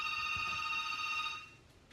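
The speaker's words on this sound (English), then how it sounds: "There's a phone ringing." A telephone rings with a steady electronic tone lasting over a second before cutting off, moderately loud and clear in a quiet room during an interview.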